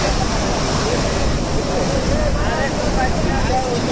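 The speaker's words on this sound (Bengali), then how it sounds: "সমুদ্রের গর্জন শুনতে পারবেন" Surf at Cox's Bazar beach rumbles as a loud, continuous wash of breaking waves, mixed with wind buffeting the microphone and faint voices in the background.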